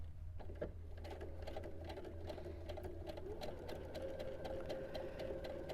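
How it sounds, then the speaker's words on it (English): A sewing machine stitches quilt-block fabric in a steady, fast mechanical whir with a rhythmic ticking pulse, running continuously throughout at moderate loudness. "I'm going to stitch on the other line"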